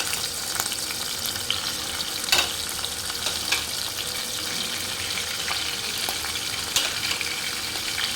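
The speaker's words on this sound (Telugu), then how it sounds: "ఈ ఆయిల్ కాగిన తర్వాత ఇందులో క్లీన్ చేసి పెట్టుకున్న ఫ్రాన్స్ వేసుకోవాలి" Continuous crackling sizzle of prawns frying in hot oil, dense and steady with occasional sharper pops, no voices.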